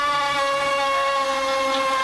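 A hot water tap squeals with a steady, high-pitched whine that holds an even tone for two seconds, loud and close, with no voices.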